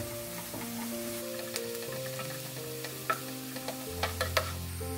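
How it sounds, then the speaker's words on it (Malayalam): Onions sautéing in a pan for Kerala-style prawn roast, an even close sizzle under a low kitchen hum, with a few light ticks and taps of the spoon near the end. "ഏകദേശം നമ്മുടെ സവോളയൊക്കെ മൂത്ത് വരാൻ തുടങ്ങിയിട്ടുണ്ട്"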